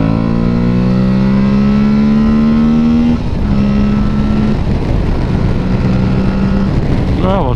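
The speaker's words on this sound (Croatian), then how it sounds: "I lepi zvuk ima taj auspuhić ovoga." An Aprilia Tuareg 660 motorcycle exhaust pulls hard on a highway, its engine note rising steadily through a gear change partway through, then climbing again, loud and close throughout.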